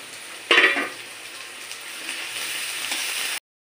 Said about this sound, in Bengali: এই পেঁয়াজটা খুব বেশি ভাজবো না আমি